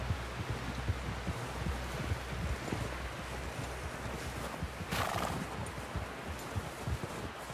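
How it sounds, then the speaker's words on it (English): A horse whinnies loudly in Red Dead Redemption 2 while hooves clop steadily underneath, with wind and background rumble filling the scene. "Someone help John down off this horse."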